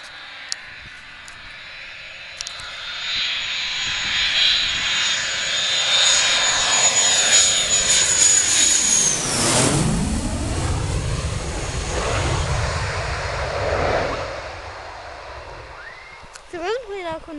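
Airplanes passing overhead in July, a rising roar that swells to a loud, sweeping pass and fades, with people talking nearby outdoors.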